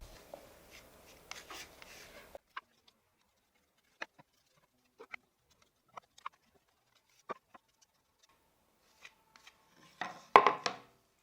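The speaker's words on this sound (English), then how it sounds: "The application will be done with this metal spatula." Dark wood filler is spread with a metal spatula on a piece of wood, making sparse, faint scrapes and light taps, with a burst of closer scraping at the start and end and near silence between strokes.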